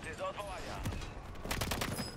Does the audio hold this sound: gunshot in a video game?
yes